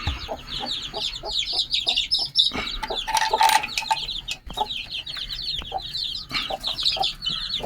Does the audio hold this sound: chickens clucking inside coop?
yes